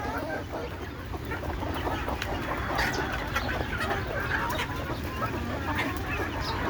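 Native village chickens, part of a backyard flock of about a hundred birds including laying hens and chicks, cluck steadily and overlapping in a dense, continuous farmyard chorus close by.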